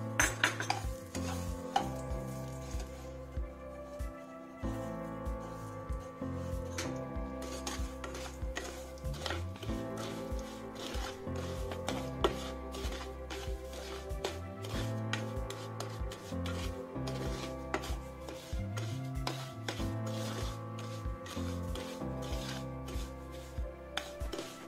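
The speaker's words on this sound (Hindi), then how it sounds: "ये देखिए सूजी अपनी कितनी अच्छी भुन गई है।" Semolina is stirred and roasted in ghee in a pan for a mango halwa, giving a steady scraping, rubbing stir with a soft sizzle and spoon clinks that continue throughout, close and with no talk.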